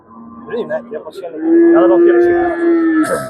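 Cattle at a livestock market: a long, loud moo close by, preceded by shorter lowing and faint background voices.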